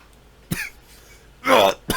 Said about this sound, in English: gotta cough again